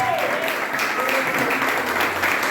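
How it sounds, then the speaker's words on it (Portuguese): Church congregation clapping together during a family worship service, a dense steady wash of hand claps with a faint voice or tone mixed in, moderately loud throughout. "Desocupe as suas mãos e glorifique a Deus com palmas"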